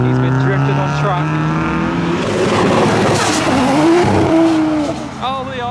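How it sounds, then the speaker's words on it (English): A Nissan Skyline R33 slides sideways leaving a Japanese car show, its engine revving loud and close as the tires squeal and skid, with a second R33 following behind and a voice talking over the engine noise. "Oh, the R33 got sideways with another R33 behind."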